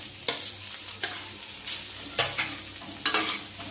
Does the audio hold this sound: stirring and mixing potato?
yes